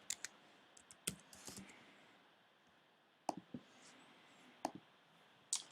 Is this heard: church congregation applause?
no